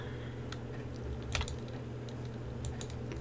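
Computer keyboard and mouse clicks while playing Farm Together, faint scattered taps and a couple of quick double clicks over a steady low hum.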